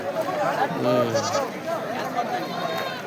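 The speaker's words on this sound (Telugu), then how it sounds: "మేకలు మేకలు మేకలు దొరుకుతాయి ఇక్కడ" Goats bleat at a busy weekly tribal market in Odisha, with a strong, wavering cry up close while crowd chatter and voices carry on around it.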